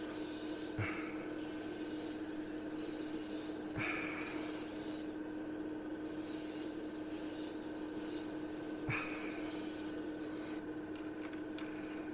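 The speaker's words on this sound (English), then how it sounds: "I think I'll spray the wings" A steady hiss of spray paint on the wings of a 1/35 Spitfire Mk Vb scale model, rising into louder airy bursts now and then, with a few faint taps in between.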